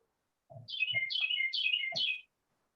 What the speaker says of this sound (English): I hear somebody's birds chirping